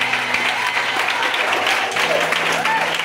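A church congregation bursts into sustained applause and cheering in acclamation, a dense wash of clapping that holds steady throughout, with voices mixed in underneath.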